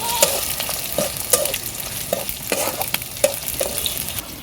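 Panch phoron five-spice seeds fry in hot oil in a village kitchen, with a close, continuous sizzle punctuated by repeated small crackles and pops as the seeds are stirred.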